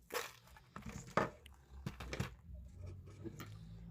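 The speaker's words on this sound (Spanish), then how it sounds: "Tijeras." Scissors snip thin bracelet thread at close range. There are a few quiet, sharp cuts and crinkles, spaced irregularly over soft handling noise in a quiet room.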